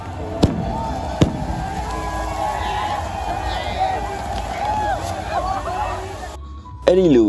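Several sharp pops and bangs of fireworks go off at intervals at the Taunggyi Tazaungdaing hot-air balloon festival in Myanmar, over a busy crowd murmur, with a whistling rise near the end.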